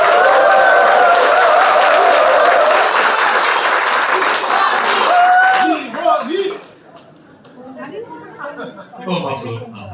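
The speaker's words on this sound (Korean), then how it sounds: "뜨거운 박수 부탁드립니다." Audience at a Democratic Party labor committee launch event in Cheongju giving loud sustained applause that fades after about six seconds into scattered murmurs and chatter.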